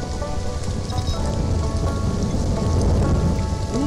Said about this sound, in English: here comes the rain, which also means lightning and the thunder